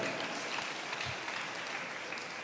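Steady, dense applause from a church congregation at a preaching service fills the whole stretch at an even level, with no talking over it.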